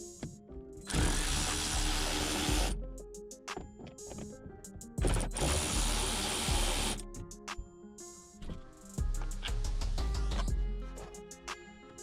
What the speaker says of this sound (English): Here I'm using a T25-bit socket to unscrew these 3 speaker bolts.